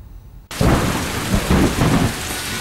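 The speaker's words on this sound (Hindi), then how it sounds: "मैदानी इलाकों के साथ साथ पहाड़ों पर भी जोरदार बारिश" Heavy rain pours down in the hills around Shimla and Srinagar. It begins abruptly as a loud, dense, continuous roar, with deep rumbling surges that sound like thunder.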